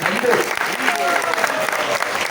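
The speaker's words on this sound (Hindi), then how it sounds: "जोरदार तालियों से उनका अभिवादन करिए सब भक्तों।" Loud, close applause from devotees at a devotional class on Lord Jagannath, continuous throughout with voices mixed into the clapping.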